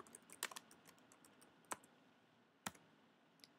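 Typing on a computer keyboard, heard as a few sparse, crisp key clicks with gaps between them against a quiet room background, close and fairly faint, with no talking.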